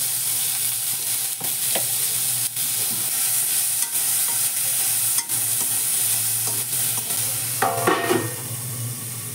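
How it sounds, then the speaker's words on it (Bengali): Tomatoes and black cumin seeds frying in a little oil, a loud continuous sizzle close up with occasional utensil taps and stirring clatter, no voices. "এখানে একটু তেল দিলাম আর তার মধ্যে কালো জিরে আর টমেটো দিয়ে দিয়েছি"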